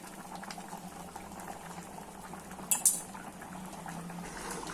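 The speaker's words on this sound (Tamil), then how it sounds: "நல்லா கொதிக்குது பாருங்க." A pot of thick kara kuzhambu, a spicy Tamil curry with taro root and eggplant, bubbles and simmers steadily up close, with a couple of quick metallic clinks partway through.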